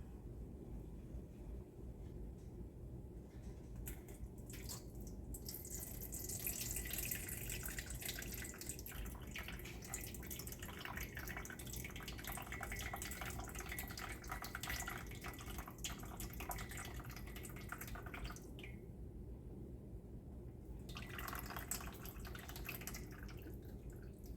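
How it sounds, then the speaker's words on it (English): Tap water runs into a gumbo pot for rinsing, a steady splashing hiss that swells and fades across the stretch with a few drippy gaps, close and fairly quiet. "I'm just going to get a little bit of water and swish it around in there"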